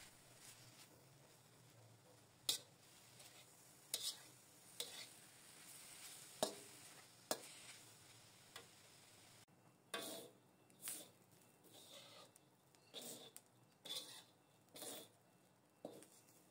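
Grated coconut, 250 grams, dry-roasted in a pan while being stirred, with soft continuous scraping and rustling broken by sharper clinks of the spatula against the pan every second or so, fairly quiet and close.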